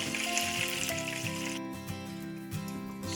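Beef ribs brown in a hot pan for beef adobo with a steady close sizzle and crackle, with a few tonal hums in the background.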